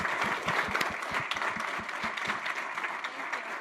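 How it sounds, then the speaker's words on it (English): A conference audience gives a panel on personal and personnel development a steady round of applause, dense clapping at moderate volume throughout with a few sharper individual claps standing out. "can we please give our panelists a great round of applause"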